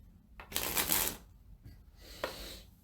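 Playing cards springing from hand to hand with the card-spring flourish, heard as two quick ruffling bursts of riffling card edges, the first louder and longer, the second fainter, with nobody talking.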